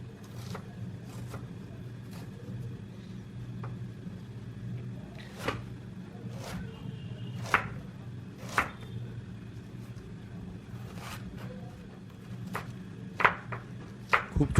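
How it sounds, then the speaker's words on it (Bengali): Sharp knife chops ring out irregularly on a board as two large onions are cut very finely for dal makhani, sparse clicks over a steady low background hum. "পেঁয়াজ দুটো বড় সাইজের আমি নিয়েছি, একদম ঝিরিঝিরি করে কাটবো।"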